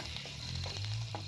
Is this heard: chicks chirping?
no